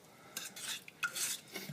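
A spoon stirs Alfredo sauce made with melting cream cheese in a pan over medium heat, producing a few short, close scraping and clinking strokes against the pan.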